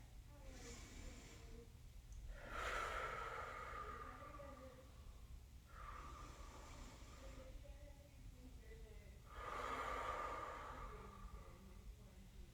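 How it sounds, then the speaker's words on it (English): Deep inhales and exhales during a balance exercise, a few slow, soft breaths close by that swell and fade in a relaxed rhythm, fairly quiet, with no talk. "Take 2 more deep inhales and exhales."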